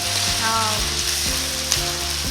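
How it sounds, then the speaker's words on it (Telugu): Curry leaves sizzle loudly in hot tempering oil for pulihora, a steady crackling fry with a few stirring knocks and faint tonal hum underneath, no one speaking. "ఇప్పుడు కరివేపాకు వేసాం మేడం"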